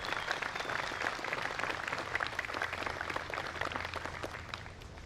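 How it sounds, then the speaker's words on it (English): Applause from an outdoor crowd at a Memorial Day ceremony in Swampscott, many hands clapping at moderate distance in a steady, even patter that carries through the whole stretch without fading. "We get one more round of applause for Command Sergeant Major Medora."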